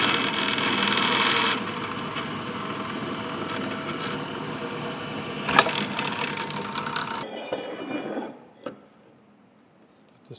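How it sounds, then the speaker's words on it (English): Drill press boring holes in bronze connecting rod bearings for a steam locomotive, a steady motor whine and cutting hum that shifts partway through, with a few sharp knocks before it winds down and stops. "We'll go ahead and just drill these holes out."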